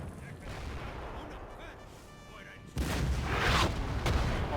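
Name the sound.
artillery fire in Napoleon Total War video game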